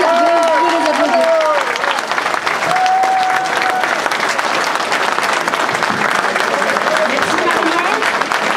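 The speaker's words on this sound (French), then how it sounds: "Vous pouvez les applaudir." Sustained applause from an audience for police candidates at a political visit in Roanne, dense and steady throughout, with a few voices calling out over it.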